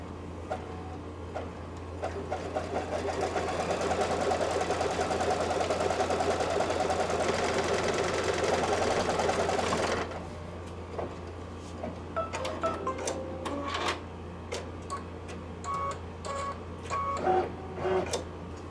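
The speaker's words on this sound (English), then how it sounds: "Now the machine will create a placement line for your main fabric that will be the cover." An embroidery machine stitches a placement line on fabric for a wall hanging, running as a loud, even whir for about ten seconds, then stopping, followed by scattered clicks and taps.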